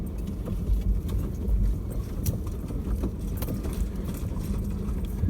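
A 4x4 vehicle climbs a hill track, its engine a steady low rumble, with rattling and knocks from the body and gravel throughout.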